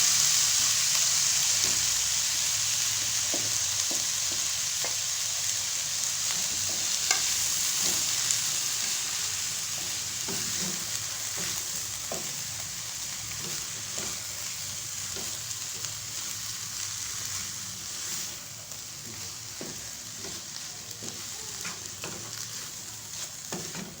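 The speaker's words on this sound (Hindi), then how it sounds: "अब हम इसको 2 से 3 मिनट भूनेंगे। जैसा कि इसे भूनते हुए हमें 2 मिनट हो चुके हैं।" Boiled chana dal roasting in a pan makes a continuous dense sizzle, with regular scraping strokes of a spoon and faint clinks throughout.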